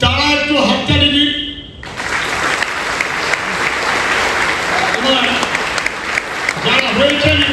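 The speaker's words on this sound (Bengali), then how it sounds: "যারা হননি তারা একটু হাততালি দিন।" Audience at a motivational business workshop breaks into loud, sustained applause that starts abruptly after a brief voice at the start and continues steadily to the end, with a few voices mixed in near the close.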